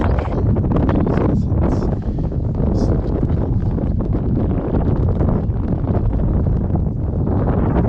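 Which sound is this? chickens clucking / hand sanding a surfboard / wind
wind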